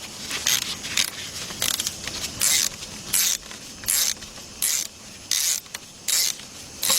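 A starter bolt is spun off a 2007 Chevy Impala 3.9, heard as a close, rhythmic run of ratcheting clicks in short repeated bursts, with no talking.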